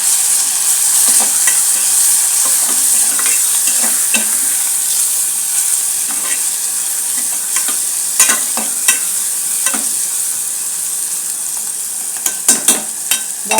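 Chicken fries with turmeric in a hot pan and is stirred. It gives a loud, steady sizzle throughout, with occasional scraping knocks that cluster near the end.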